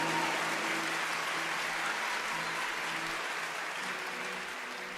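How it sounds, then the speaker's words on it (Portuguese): A church congregation applauds steadily, a dense wash of clapping that stays even and moderately soft for several seconds, fading slightly at the end. "Quantos dão um lindo aplauso em gratidão a Deus"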